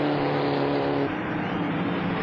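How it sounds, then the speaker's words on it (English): Stock cars racing at the 1977 Winston 500, a dense roaring engine drone that shifts in pitch midway as cars speed past around the track, steady and moderately loud. "Donnie Allison taking the lead by 5 car lengths"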